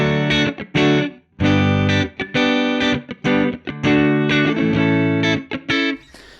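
Electric guitar through a Showtime '64 tube amp plugin, played in bursts of chords and notes with a driven, slightly distorted edge and a wash of room reverb, loud and close with short gaps between phrases.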